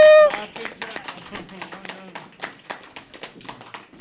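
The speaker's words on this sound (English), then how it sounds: "So please give a round of applause to the crew." Audience applause for a catering crew at a community association meeting, a brisk spread of claps rising and thinning through the clip, moderately near, with a voice briefly heard at the start.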